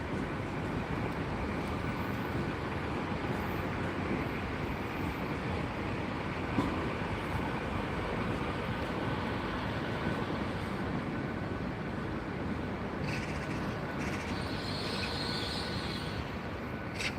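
A Class 800 train on a Bristol Temple Meads to Worcester Foregate Street service rumbles past nearby in Gloucester with a steady, broad roar throughout, joined near the end by a higher mechanical whine.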